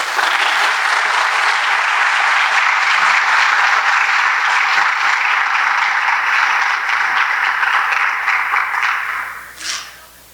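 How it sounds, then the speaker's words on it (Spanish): Conference audience applauds steadily and loudly to welcome a speaker, a dense sustained clapping that runs about nine and a half seconds before tapering off at the end. "les pido un fuerte aplauso"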